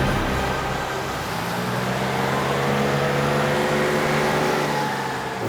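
A car drives along a city street with a steady engine hum and road rumble, continuous and fairly loud throughout, with no voices.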